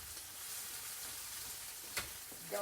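Eggs and Spam fry in a skillet, a faint, steady sizzle running throughout with a couple of brief louder scrapes or pops near the end, no talking.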